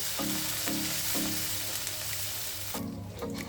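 Spice paste frying in hot oil in a pan for a Bengali tripe (bhuri bhuna) dish, a steady close sizzle broken by repeated scraping stirs, with a louder burst of crackling near the end.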